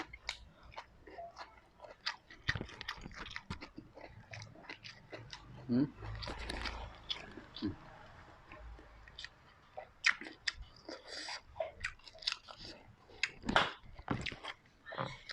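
Crunchy chewing of fried mushrooms close to the mic, irregular bites and munches repeating throughout, with a voice talking intermittently over the eating.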